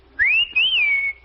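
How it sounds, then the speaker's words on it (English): A person gives a single clear, rising whistle to flag down a bus, loud and close, briefly breaking before sliding into a long steady tone. "I whistled for the bus."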